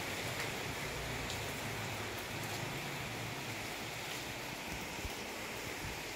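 Rain pours down in a continuous broad wash of sound, fairly soft and steady, with occasional louder drips rising out of the hiss.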